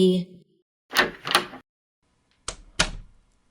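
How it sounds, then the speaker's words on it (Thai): A meeting-room door closing as an audiobook sound effect: a pair of short clunks, a brief pause, then two sharper wooden knocks as the door shuts firmly, close and isolated. "จนประตูห้องประชุมปิดลง"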